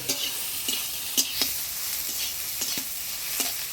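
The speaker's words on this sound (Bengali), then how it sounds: "সোয়াবিনটা হালকা লাল লাল করে ভাজি নিলাম" Soybean chunks fry in oil in a pan, giving a steady soft sizzle broken by several sharp scraping stir strokes, close and moderately loud, with no voices.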